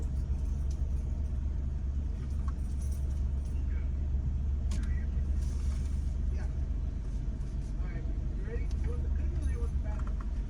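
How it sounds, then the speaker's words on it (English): A smart car driving through downtown Atlanta past a stadium, street works and a bus stop: a steady low road rumble with faint rattles and passing traffic noise, held at an even level throughout. "the smart car that we are currently in"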